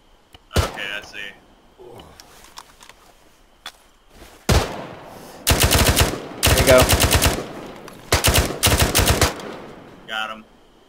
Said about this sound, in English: I need suppressive fire to the south as quickly as possible.